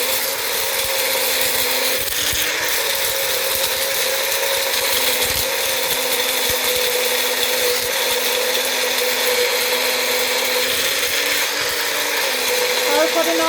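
An electric grinder runs steadily for over thirteen seconds, whirring and rattling as it grinds dried spices for Jamaican curry powder, loud and close with no talking.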